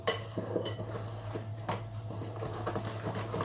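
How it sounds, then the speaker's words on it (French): Orange and chocolate cake batter with flour being mixed by hand in a bowl, repeated light scraping and tapping of the utensil against the bowl over a steady low hum, close and quiet, no talking. "Donc vous mélangez bien jusqu'à ce que le mélange soit bien lisse."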